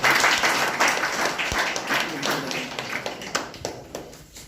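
A crowd at a village welcome ceremony claps loudly as a revered swami is garlanded, a dense burst of applause that gradually thins and tapers off.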